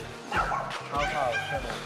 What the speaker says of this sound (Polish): O, piesek.